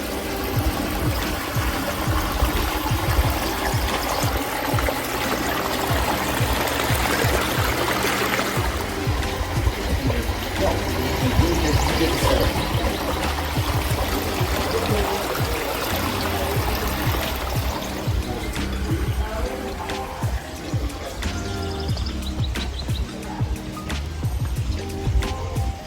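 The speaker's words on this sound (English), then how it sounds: "You hear this beautiful Babbling falls." A babbling brook spilling over a small waterfall, a steady broadband rush and trickle of water running continuously and fairly close, with no talk over it.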